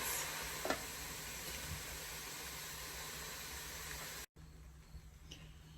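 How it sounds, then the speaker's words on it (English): Vegan scallops cook on a griddle with a steady, soft sizzle that holds evenly for several seconds, briefly cuts out, then resumes. "They are on the griddle, and let's let them cook for a few minutes."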